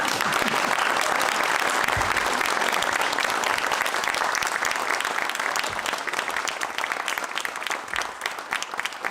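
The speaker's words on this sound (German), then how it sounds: "Kleinen Applaus." A studio audience breaks into a thick wall of close, continuous clapping for an electronic musician, and the clapping thins slightly toward the end.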